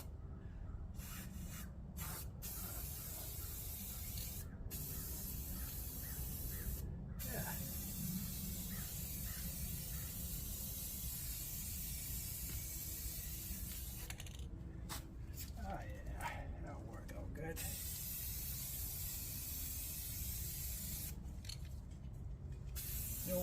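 Spray gun applying paint to exterior trim on a Winnebago Revel van outdoors in dead calm air, a steady hissing spray broken by short pauses, close and fairly loud throughout.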